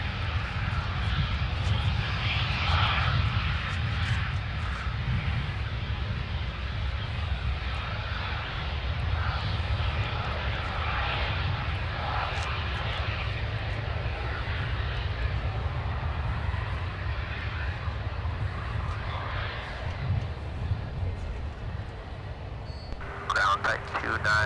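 Steady roar of jet aircraft engines at Minneapolis–Saint Paul airport, a continuous broad rumble holding for the whole stretch, with radio voices talking over it throughout.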